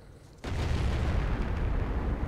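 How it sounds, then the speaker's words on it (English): An ISU tank's massive gun fires in World of Tanks, a sudden heavy boom that erupts out of quiet into a long, loud, rumbling roar that sustains for the rest of the moment. "ISU firing his massive gun there."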